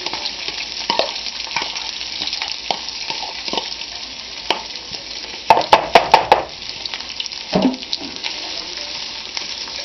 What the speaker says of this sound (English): Dump all this corn in there. Get that corn fried up.